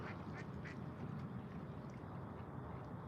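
A duck quacks a few times at a distance near rocks and water, holding a live fish in its beak, with short nasal calls over steady outdoor background noise.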